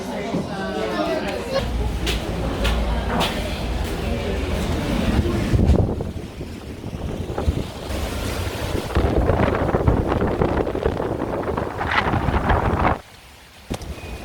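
Strong typhoon wind gusts across a third-floor Starbucks terrace in Boracay, steady loud buffeting and roar against the microphone, with people talking under it; the wind drops abruptly near the end.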